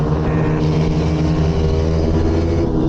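A YCF 125 carburetted pit bike engine revs hard and steadily close by, a loud, continuous buzzing drone that holds without a break and with no talk over it.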